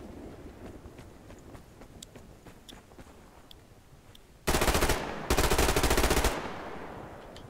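Bursts of submachine gun fire in the online shooter Survarium: a long rapid burst, a short pause, then a second sustained burst. The fire is loud and close, over faint ambient game noise with scattered light clicks before it.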